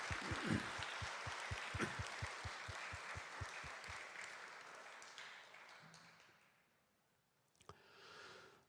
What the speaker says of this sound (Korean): 우리 큰 박수로 감사의 마음 전합시다.